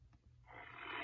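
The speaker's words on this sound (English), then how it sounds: "It's a tiger." A tiger roar from a preschool animal-sounds toy rises out of near silence into a faint, rough, breathy growl lasting under a second.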